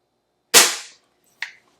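A Crosman air pistol fires on a 10 meter indoor range: one sharp, loud crack that rings briefly, then a second, fainter snap close behind it, like a pellet striking the target.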